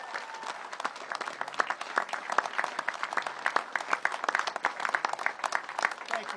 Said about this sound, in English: give these people a big round of applause